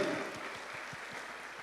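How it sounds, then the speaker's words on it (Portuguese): A church congregation applauding during a sermon on the gifts of the Holy Spirit, a brief steady patter of many hands clapping in a rhythmic beat. "Vamos lá, aplaudindo também."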